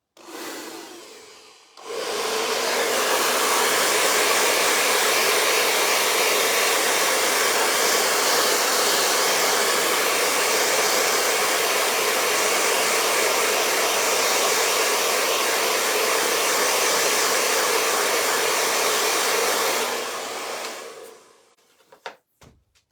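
A hair dryer blows steadily over wet watercolour paint, starting abruptly and holding a loud, even whoosh for about eighteen seconds before clicking off, with no talking.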